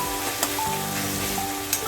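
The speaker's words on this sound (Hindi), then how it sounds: "इसीलिए हम कढ़ाई में भून रहे हैं" Ginger, garlic and onion masala fries in a kadai for Kolkata-style mutton curry, giving a loud, steady close sizzle with a few sharper crackles and spoon scrapes.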